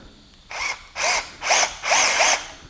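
A power drill drives a 2.5 inch woodworking screw into wood for a removable balcony handrail, four short whirring bursts rising in pitch, the last one longest, close up with no talking.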